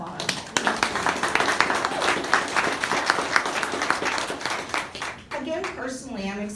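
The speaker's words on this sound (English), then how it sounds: "give yourselves a round of applause" An audience at an International Women's Day keynote claps steadily in a crisp, moderately dense burst, then the applause fades as a voice begins speaking over the tail.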